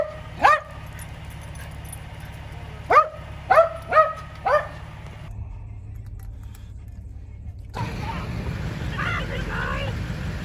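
A dog in a car on the way to the vet gives several sharp barks, one at the start and then a quick cluster, over steady road rumble. The cabin noise rises later.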